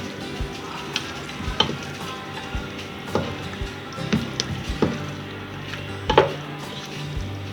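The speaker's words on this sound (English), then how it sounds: "And mix it well." Aloo palak, a potato and spinach curry, being stirred and mixed in a hot pan, with soft sizzling throughout and scattered scrapes and knocks of the spoon against the pan at an unhurried rhythm, no talking.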